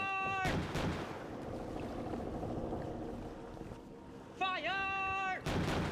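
Pirate ship cannons in the game Forgotten Seas boom in two loud blasts, one at the start and one at the end. A rumbling sea-battle din fills the gap, and a drawn-out voiced call rises just before the second shot.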